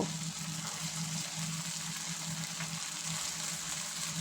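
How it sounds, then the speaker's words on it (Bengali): Sabudana pakoras (sago vadas) fry in hot white oil in a frying pan over medium-high heat, giving a steady, continuous sizzle and bubbling hiss that holds even throughout, close by and alone. "বেশ লাল লাল করে সাবুদানার পকোড়াগুলো ভেজে নেব"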